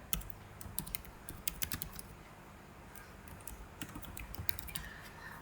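Rapid clusters of keystrokes on a computer keyboard as a name is typed into an online school registration form, close and crisp with short pauses between bursts, no talking.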